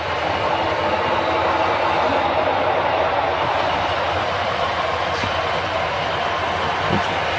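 A small GP30 diesel locomotive approaches on a model railroad layout, with a steady rumble and rolling wheel noise that holds evenly at a moderate level, with a few faint clicks.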